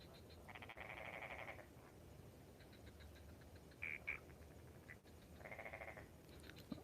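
Frogs croak at night in bursts of rasping, buzzy calls, two longer choruses with scattered shorter chirps between, fairly faint over a steady background hiss.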